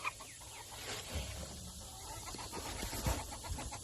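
Hens cluck and murmur softly in a quiet coop, with occasional faint rustling and a scratchy background hiss.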